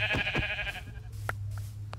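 A sheep bleats briefly up close in a survival video game, followed by a few soft clicks and a low steady hum, like game audio.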